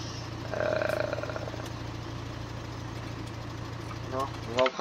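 A small tractor engine idles in Farming Simulator 17 with a steady, even low drone, holding constant throughout while voices talk over it, with a few brief clicks near the end.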